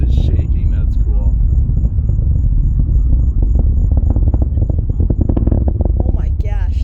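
A SpaceX rocket launch sends out a deep, loud, continuous rumble with a crackling roar, heard from a distance, while excited spectators talk over it.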